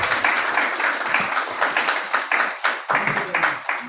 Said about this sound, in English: maybe this deserves another round of applause.